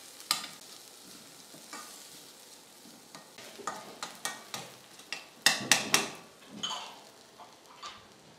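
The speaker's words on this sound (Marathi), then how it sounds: "तमालपत्र, बारीक चिरलेला कांदा। आता याला व्यवस्थित परतून घ्यायचं।" Chopped onion and bay leaf sauté in a pan as a spoon stirs and scrapes in repeated short strokes over a soft sizzle, quiet and close with no voices.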